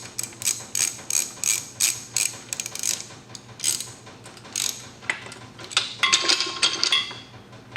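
Quick ratcheting clicks from screws being tightened on a VEVOR 1322 lb transmission jack, in close, bursty runs of metallic ticks with short pauses between them, no talking.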